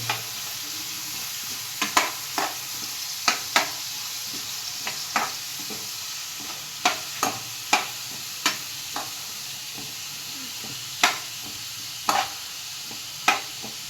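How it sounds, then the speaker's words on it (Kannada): Finely chopped onion fries over a medium flame with a soft steady sizzle, while a spoon scrapes and knocks against the pan in irregular sharp clicks. "ಸಣ್ಣದಾಗಿ ಹಚ್ಚಿರೋ ಒಂದು ಈರುಳ್ಳಿ, ಅದು ನೀಟಾಗಿ ಸ್ವಲ್ಪ ಮೆದುವಾಗೋವರೆಗೂ ಅದನ್ನು ಬೇಯಿಸ್ಕೋಬೇಕು ಮೀಡಿಯಮ್ ಫ್ಲೇಮಲ್ಲಿ"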